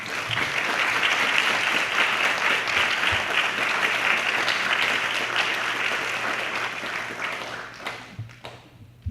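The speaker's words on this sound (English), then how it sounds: "Let's give them a big round of applause." Enthusiastic audience applause at a raspberry festival coronation, steady and full for several seconds before thinning out and fading at the end.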